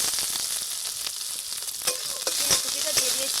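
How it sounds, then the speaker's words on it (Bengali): Chopped ginger and garlic fry in a pan of hot oil with a constant bright sizzle, broken by occasional scrapes and taps of a spatula stirring the pieces. "আদা রসুনের কুচিটা প্রথমে দিয়ে দেবো, হালকা লাল লাল করে ভেজে নেব"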